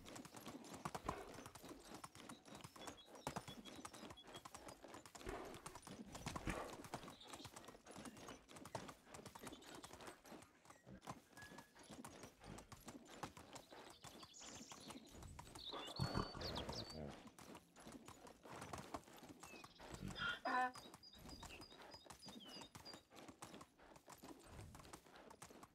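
Donkey hooves clip-clop in steady rhythmic steps in the medieval village game Medieval Dynasty, moderately close and continuing across the whole stretch with faint ambient game sounds behind them.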